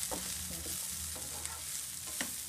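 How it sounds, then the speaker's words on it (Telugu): Dried prawns being stirred into onions frying in a pan: soft steady sizzle with a few distinct spatula scrapes and taps, close up and without speech. "ఇప్పుడు ఆనియన్స్లోకి అవి బాగా మిక్స్ అయ్యేలాగా మనం కలుపుకుంటూ ఉండాలి"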